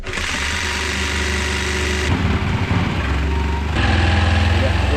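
Power saw cutting wood for a nav table on a Freedom 28 sailboat: a loud, steady motor whine with shifts in pitch as the blade loads, running continuously close by.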